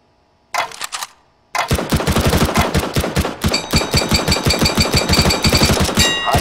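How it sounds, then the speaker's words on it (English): Gunfire from a weapon in the CS GO video game, heard as a short burst, a brief pause, then a long run of rapid, loud, evenly spaced automatic shots, with no voices. "Fire in short, controlled bursts"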